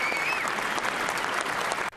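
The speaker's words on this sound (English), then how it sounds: "President Obama entered the House chamber to rousing applause" Rousing applause fills the House chamber as President Obama enters for the State of the Union, a dense, steady roar of clapping from a large crowd that cuts off abruptly near the end.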